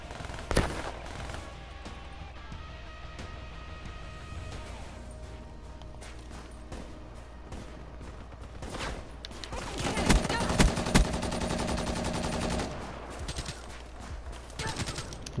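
Medium-range gun firing in Call of Duty Black Ops III Team Deathmatch on an Infection map, with scattered shots early on and a loud dense burst of sustained automatic fire near the end, game music and effects around it.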